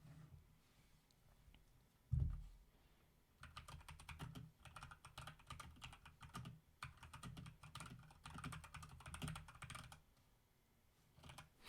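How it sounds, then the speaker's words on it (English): Computer keyboard typing during a livestream: bursts of quick, fairly close keystrokes with short pauses, one louder thump near the start, and no talking. "we're gonna start with typing"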